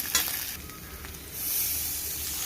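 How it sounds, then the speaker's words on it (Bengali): Spiced masala frying in a pan for aloo dum sizzles steadily, a sharper hiss swelling midway as water is poured in, then a continuous loud frying sizzle. "এখন পরিমাণ মতো জল দিয়ে দেব।"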